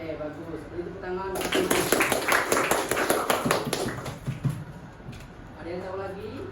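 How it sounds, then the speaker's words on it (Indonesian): Students in a classroom clapping, a burst of quick hand claps that starts suddenly, runs for about three seconds and tapers off, with a teacher speaking before and after. "Beri tepuk tangan."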